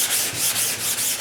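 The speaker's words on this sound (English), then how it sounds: "you sand just on the tape edges first, and then come right on into the open area" Close, continuous sanding strokes over an EkoFill filler coat on aircraft fabric, an even rhythmic hiss of back-and-forth rubbing.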